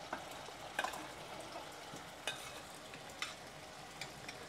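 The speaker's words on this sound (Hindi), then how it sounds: "अब डालेंगे इसमें बॉईल की हुई कलेजी।" Boiled goat liver going into masala being roasted in a pan for Bakra Eid kaleji: a faint low sizzle with a few soft clinks and scrapes of a spoon at scattered moments.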